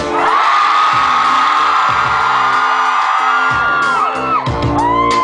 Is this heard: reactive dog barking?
no